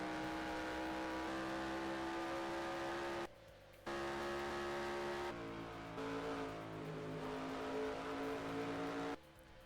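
Race cars in a racing video game rev and roar past in a steady, loud engine drone, dropping out briefly twice before surging back, with no voices over it.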